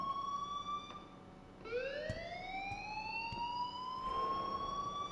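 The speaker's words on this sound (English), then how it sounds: "please turn off that alarm since that's your job" An alarm rings out in the Life Is Strange video game, a steady electronic tone with sliding pitch that cuts off briefly and then rises again, loud and continuous with no talk over it.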